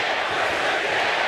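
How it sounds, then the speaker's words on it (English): A crowd chants at the Creator Clash 2 boxing event, a dense, loud roar of many voices that holds steady through the whole short moment without a break. "Crowd is lively."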